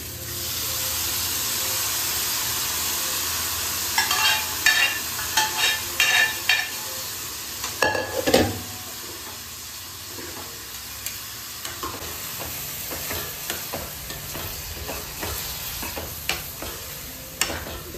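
Zucchini added to fried onion and tomato, sizzling and hissing in a pan while being stirred; a steady loud sizzle with bursts of scraping strokes and clatter, up close.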